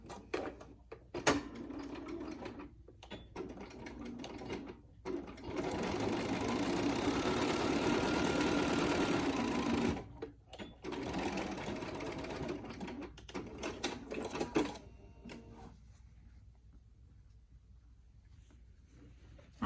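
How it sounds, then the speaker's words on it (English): A sewing machine stitches along the fold of a fabric face mask in bursts of rapid mechanical whirring, pausing between runs and then falling quiet near the end; close and fairly soft. "now we're ready to turn it over and sew along the fold so we can slip our elastic through there"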